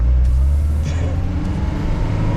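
A car engine rumbles loud and close from inside the cabin during a driving lesson, a steady low drone as gas is given while the clutch is released, with a voice speaking over it.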